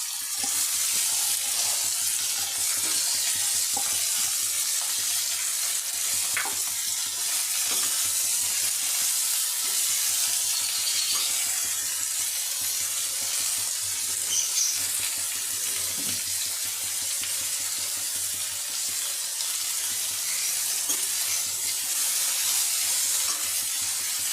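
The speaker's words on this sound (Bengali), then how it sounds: "এই তেলই আমি বাঁধাকপিগুলো ভেজে নেবো" Cabbage frying in oil in a wok (kadai), a steady broadband sizzle running unbroken with a few faint clinks, no voices.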